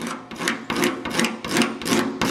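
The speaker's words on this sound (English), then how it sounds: "where they kind of scrape off the worst of it" Old paint being scraped off a 1951 Dodge Crusader four-door chop top, heard as rhythmic, close, rasping strokes, about six back-and-forth scrapes in quick succession with brief gaps between.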